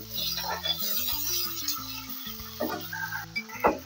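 Boiled banana blossom is stirred and fried in a pan with bay leaf for a potato and chickpea curry, a soft sizzle with occasional spatula scrapes under background music.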